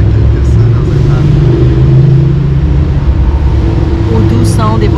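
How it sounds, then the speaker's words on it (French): Dense car traffic beside a park in Athens, a steady loud roar of engines and tyres rumbling close by without a break, with a brief higher squeal near the end. "Au doux son des voitures."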